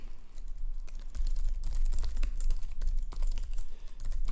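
Rapid, dense typing on a computer keyboard, steady clattering keystrokes close up over a low hum, during coding work on a git-python issue.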